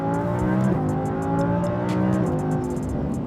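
Audi R8 V10 Plus rated at 610 horsepower, its engine revving hard in race mode with a loud, sustained howl and two quick gear shifts, heard from inside the car.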